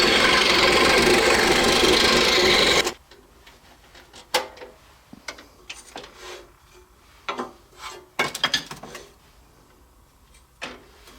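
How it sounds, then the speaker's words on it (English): Scroll saw cutting through maple from a drilled blade entry hole, a loud steady dense buzzing rasp for about three seconds that then stops, followed by faint scattered ticks and light rubbing handling sounds. "I've drilled a blade entry hole, and we're going to cut it out."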